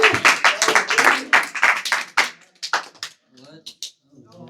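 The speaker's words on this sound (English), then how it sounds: "Please give a round of applause for Nick." An audience at a Bhakti school talk claps in a brief round of applause, dense at first and then thinning into scattered claps, with a voice speaking at the end.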